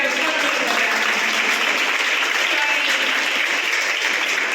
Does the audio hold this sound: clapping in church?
yes